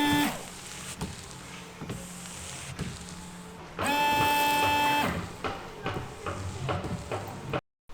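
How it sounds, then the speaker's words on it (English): Windscreen washer jets on a BMW E90-series car pump and spray in a steady whirring burst of about a second, amid mechanical clicks and background noise, with no talk. "So now when we press the washer jets, they should work"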